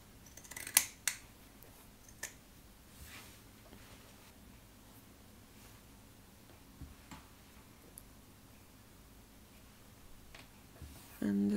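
Scissors snip through a stack of fabric with lining laid on top, for a sewn surgical bonnet, giving a few sharp, close cuts near the start and scattered quieter snips over a faint, quiet room.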